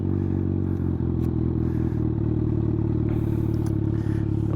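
A 2023 Kawasaki Z900 motorcycle engine, already warm, running at a steady low idle close by, with a constant deep rumble and light mechanical clatter throughout.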